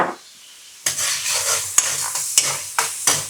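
Garlic frying in a pan for Chinese-style broccoli in garlic sauce, a steady close sizzle broken by several sharp scrapes and clanks of a utensil stirring against the pan, with no talking.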